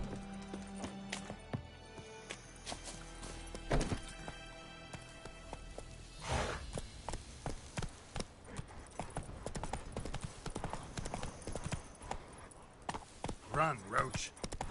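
Roach the horse gallops in The Witcher 3, hooves clip-clopping in a steady rhythm over game music and ambient sounds, with a brief whinny-like snort near the end.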